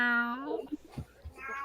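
A single close, drawn-out cat meow opens, followed by soft rustling and a faint second mew.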